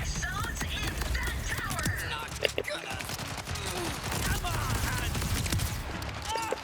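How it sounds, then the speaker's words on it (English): An automatic shotgun fires rapidly in the video game Borderlands 4, giving dense continuous blasts over game music and effects, with a player talking over the action. "so this shotgun is like one of those auto shotguns"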